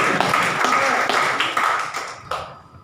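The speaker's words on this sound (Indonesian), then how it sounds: "Berikan tepuk tangan bagi Tuhan." A church congregation at a seminar claps their hands together in a brisk, fairly loud burst of overlapping claps that trails off near the end.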